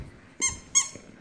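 Dog squeaky toy giving two short, high squeaks a fraction of a second apart, close and clear against a quiet room.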